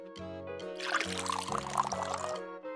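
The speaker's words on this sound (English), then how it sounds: "First, we pour some milk." Milk poured into a bowl while making bubble waffle dough, a steady liquid splash and trickle lasting about two seconds over a background music bed.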